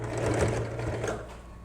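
A sewing machine stitches apron fabric in a short, steady run, its motor humming with a fast rhythmic needle chatter that eases slightly toward the end.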